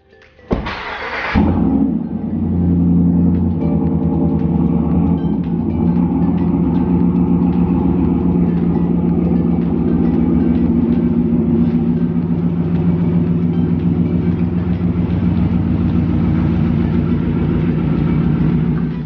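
The engine of a 2019 Ram Rebel pickup cranks and catches, then settles into a steady, loud, low idle that runs on evenly nearby.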